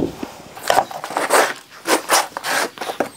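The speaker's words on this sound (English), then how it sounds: "Trim the stem down" Stem of a large dahlia tuber cluster being trimmed during division, heard as a series of close, dry scraping and cutting rasps in uneven bursts with short pauses, fairly loud and with no voice over it.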